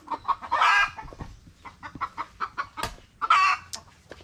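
Chickens and chicks cluck close by in a quick series of short, repeated calls, with a couple of louder, busier bursts standing out.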